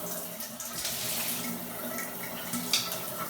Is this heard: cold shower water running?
yes